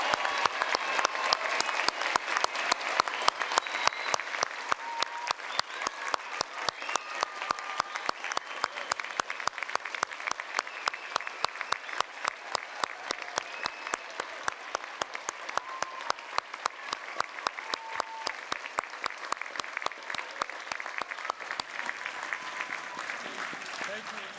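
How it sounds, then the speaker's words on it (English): A large audience at a university graduation ceremony gives graduates long, steady applause, a dense even wash of clapping that stays fairly constant for over twenty seconds at a moderate distance. "we're going to give a very hearty round of applause to our graduates"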